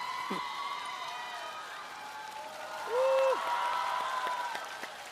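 Studio audience applause at the singing show The Treasured Voice Season 6, a soft, distant, even patter of clapping with a ringing tone running beneath and a brief beep partway through.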